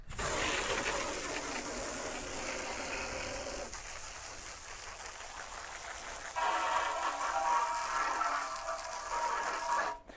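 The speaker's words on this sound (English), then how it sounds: "give it a quick spray down with the water hose and let it sort of soak." A water hose sprays down a removed part of a Pit Boss Series 4 Pro Series vertical pellet smoker, making a steady, close hiss that shifts in tone twice as the spray moves across the metal.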